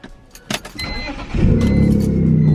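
A BMW E46 engine cranking over after a short jangle of keys, then catching and settling into a loud, steady idle close by.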